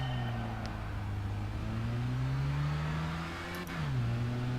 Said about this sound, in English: I hit the rev limiter slightly there